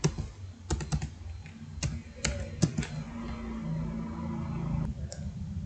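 Someone types on a computer keyboard while entering a database name in a software project, with bursts of sharp, close key clicks separated by brief pauses and followed by a few isolated taps.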